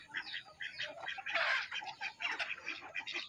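Country chickens and ducks of a parent flock in a poultry shed, with a dense, continuous chorus of clucks and chirps from many birds close by.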